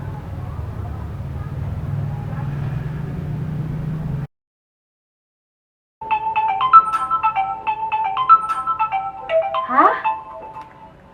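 A phone ringtone plays a bright, repeating electronic melody after a brief silence, preceded by a low rumbling background.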